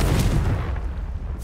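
The Confringo fire spell going off in Hogwarts Legacy: a deep, loud booming burst that rumbles and fades over about a second, with no talk over it.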